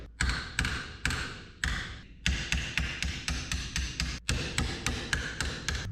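A hammer beats metal flat on a 1961 Chevy Wagon build with sharp, ringing strikes, loud and close. The blows come in a steady rhythm of roughly three to four per second, with a few brief pauses between runs.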